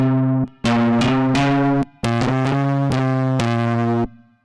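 Plucked nylon-string guitar chords ring out through a gritty Ableton Live overdrive, several sustained strums with brief gaps between them, loud and close.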